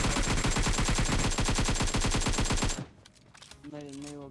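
Rapid automatic gunfire from the video game PUBG, set at the Erangel military base, a loud dense burst of shots lasting nearly three seconds that cuts off abruptly into quieter game ambience with a tonal sound near the end.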